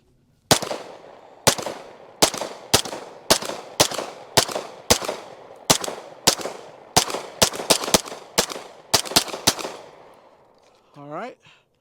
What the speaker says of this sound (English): So let's just keep shooting.